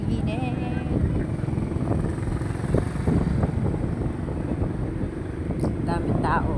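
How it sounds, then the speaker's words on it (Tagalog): Steady low wind rumble buffets the microphone outdoors on a busy street by a food bazaar, continuous for several seconds with faint crowd murmur and traffic underneath. "Mahangin, malamig ang simoy ng hangin ni Amihan"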